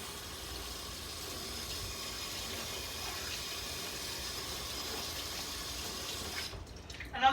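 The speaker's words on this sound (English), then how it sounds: "I'll wash the blade off." Tap water runs steadily over a juicer blade being rinsed in a sink, a continuous close hiss and splatter that cuts off abruptly near the end.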